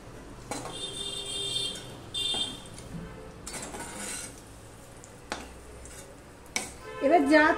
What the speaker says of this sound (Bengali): এবার আমি এই একই পাত্রে তুলে নেব, যেখানে আমি পটল ভেজে তুলে রেখেছিলাম সেখানেই আলুটা আমি তুলে নিচ্ছি।